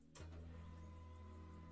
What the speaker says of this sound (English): my printer just started up and it's printing